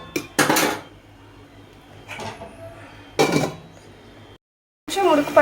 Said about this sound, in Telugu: ఇప్పుడైతే మూత పెట్టేసుకొని కొంచెం మగ్గలిచ్చుకుందాం